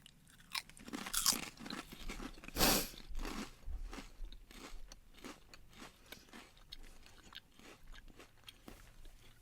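All-dressed potato chips crunched and chewed during a snack taste test, loud close bites followed by steady rapid crackling mastication, no talking.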